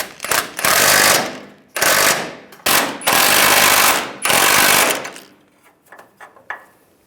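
A power tool drives the differential bracket nuts tight on a 2007-2013 Chevrolet Silverado. It fires in four loud, close, rattling bursts separated by short pauses, and faint clinks and handling noises trail off at the end.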